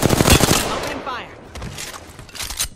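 Gunfire from the video game Apex Legends, with a dense burst of rapid shots followed by scattered later bursts. Game voices and effects are mixed in.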